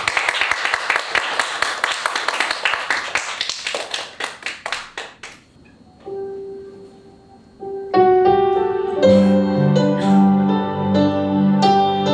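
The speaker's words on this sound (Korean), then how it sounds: "우리 홍일이 나올 때 큰 박수 부탁드리겠습니다." A church congregation claps at a Sunday worship service: several seconds of dense, rhythmic hand clapping that thins out, then gives way to sustained instrumental music.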